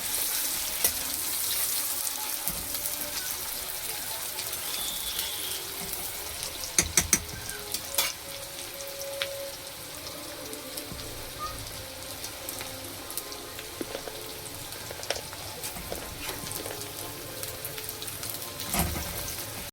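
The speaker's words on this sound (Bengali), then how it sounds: "পেঁয়াজটা একটু লাল লাল করে ভেজে নেব।" Onions fry in a pan with a steady, even sizzle like light rain, punctuated by a few sharp clinks and stirring scrapes partway through.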